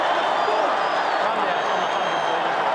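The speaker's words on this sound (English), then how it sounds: "collision of boos and applause" A stadium crowd at an AFL match, Fremantle Dockers against Carlton, roars in a mixed wash of boos and applause, a continuous dense noise with a commentator talking over it.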